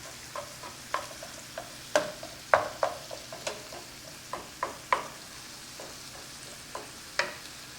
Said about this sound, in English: Now that my beef has browned